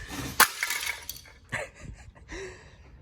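A Dodge dashboard piece smashes like glass with a sharp crack, followed by scattered tinkling fragments and a few lighter knocks and clatters settling nearby.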